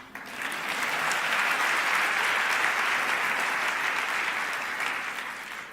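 Sustained audience applause from a crowd at a talk, steady and loud for several seconds with a gentle fade at the end, no voices over it.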